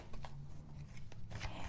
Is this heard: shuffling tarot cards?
yes